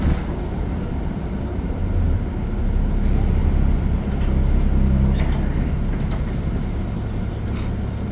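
Steady low rumble inside a Laval STL city bus on route 26 toward Montmorency in snowy weather, with engine drone, road noise and occasional rattles and hisses, continuous throughout.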